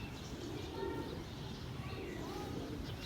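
Pigeons kept by a pigeon fancier coo softly in low, rounded repeated calls. The calls sit over a steady background hiss and hum.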